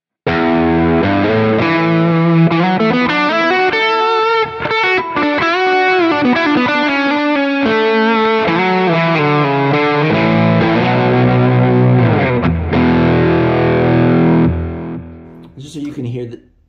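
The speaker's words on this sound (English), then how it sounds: "So here, let's hear this Marshall Plexi." An electric guitar plays a distorted lead through a Marshall Plexi amp patch on a Quad Cortex with an overdrive pedal, tape delay and room reverb. The phrases are loud, sustained and melodic, then ring out and fade near the end.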